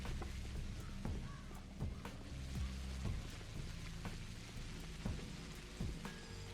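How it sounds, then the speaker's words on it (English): Steady stormy rain with low thunder rumbles in the horror game Pathologic, a continuous wash of rainfall with scattered crow-like caws. "It was a dark and stormy night."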